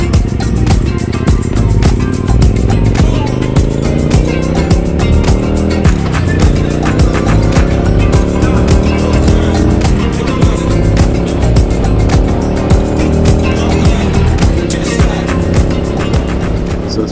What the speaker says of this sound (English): So it's been a couple of days riding the Speedmaster, Triumph Speedmaster 2009 865.